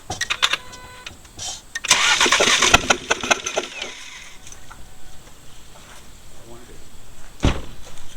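Ford Edge 2.0 EcoBoost engine with a failed block cranked over by the starter, a loud churning burst of a couple of seconds followed by quieter mechanical noise and a brief thump near the end, with voices in the background.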